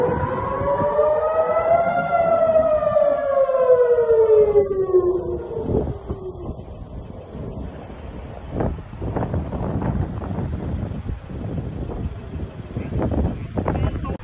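An air raid warning siren wails in Israel during a rocket attack from Lebanon, rising and falling loudly for about six seconds before giving way to wind buffeting and rumbling background noise.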